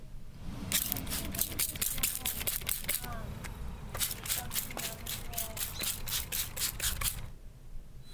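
A 3M Trizact disc wet-sands a car headlight lens in a steady series of rhythmic rasping strokes, close and moderately loud over a low background rumble, ending in a brief quiet pause.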